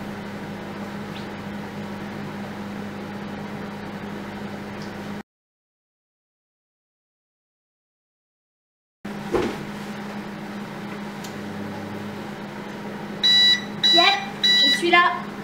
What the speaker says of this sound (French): Et c'est parti, au micro-ondes, 5 minutes à 600 watts.